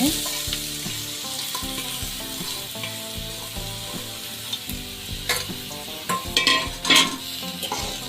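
Goat blood mixture frying in a pan gives a steady hiss under a tonal background, then louder sizzling bursts and spoon scrapes near the end.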